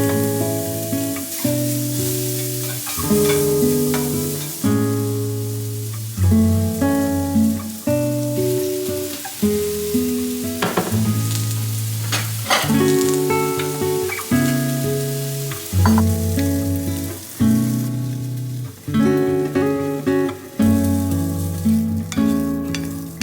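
Apple with cinnamon sizzles in a pan, a bright crackling hiss heard faintly beneath steady background music that plays throughout.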